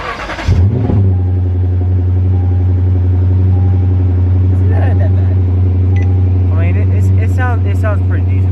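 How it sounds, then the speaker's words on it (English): A 2019 Lexus RCF with an Invidia Q300 cat-back exhaust and muffler delete cranks on a morning cold start and fires up, then settles into a loud, deep exhaust rumble at a steady idle, with a voice briefly speaking near the end. "just wanted you guys to hear the cold start in the morning,"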